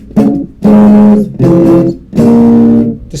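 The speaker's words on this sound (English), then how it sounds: "And now reverb." A guitar played through a mini amp with a reverb effect, four loud strummed chords in a row, each ringing out with a washy tail before the next.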